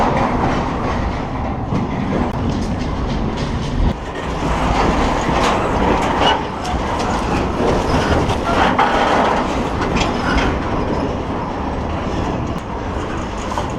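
A freight train moves past nearby on the route from Chicago to Fort Madison, loud rumbling with clickety-clack of wheels on rails and occasional metallic squeals, continuous throughout with no talking.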